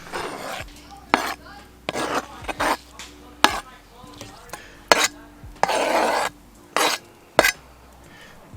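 Tomato, roasted poblano and roasted red pepper are tossed into turkey cooking at a campsite, giving close, irregular bursts of clattering and scraping in a pan separated by short quiet gaps.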